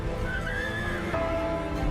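A horse neighing sound effect: one loud, close whinny rising and wavering for about two seconds over a low, steady background.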